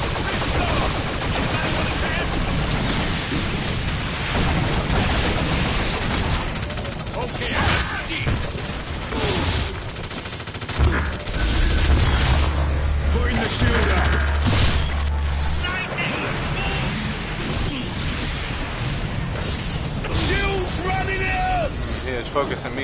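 Gunfire fills a hectic fight in the video game Evolve: rapid bursts and booming shots stack over one another while players talk and shout excitedly throughout.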